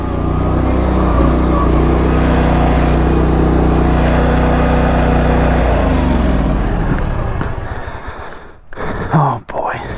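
A Cub Cadet lawn mower engine runs loud and close with a steady drone that wavers and surges, then drops away into rustling and handling noises with a faint voice.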